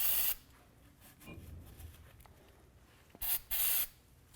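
Brake cleaner sprays onto a greased brake pad on a 2008-2012 Ford Escape in sharp, loud hissing bursts, one at the start and two short blasts near the end, with quiet handling between.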